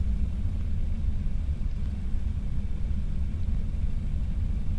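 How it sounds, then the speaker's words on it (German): A low, continuous rumble of an approaching storm rolls on in the game Forever Skies, steady and droning with no breaks and no voices over it. "Caution. A storm is coming."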